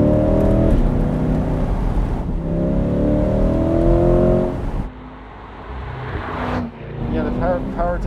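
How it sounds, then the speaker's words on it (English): A C8 Corvette or Acura NSX sports car accelerates hard, its engine revving up in several rising pulls that sound loud and close, with brief easing between them. "It have to be high revving to get any kind of power out of it."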